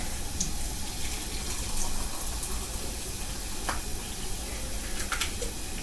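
Tap water runs steadily into a container being filled for tea, a continuous close rushing and splashing that stays at an even level throughout.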